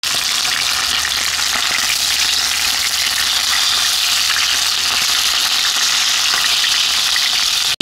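Vobla fish frying in a pan in Astrakhan, a loud, steady crackling sizzle of hot oil that runs unbroken throughout with no talk, ending in a brief clatter.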